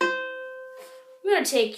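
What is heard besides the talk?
No everyday noise stands out behind the speech.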